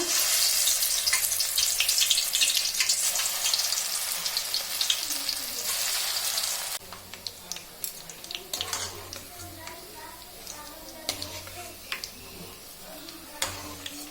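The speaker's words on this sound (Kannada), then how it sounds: "ಎಣ್ಣೆ ಬಿಸಿಯಾಗಿದೆ, ಬೋಂಡ ಹಾಕೋಣ" Raw banana bonda dropped into hot oil and frying, a loud bright crackling sizzle that drops to a quieter, steady bubbling with scattered pops, heard up close.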